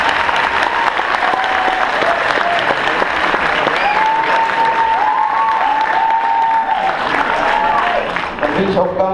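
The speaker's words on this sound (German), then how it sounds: "Einen Applaus verdienen." Sustained applause from a large crowd at an integration evening in Bottrop fills the room, steady and loud throughout, with some tonal sound rising beneath the clapping.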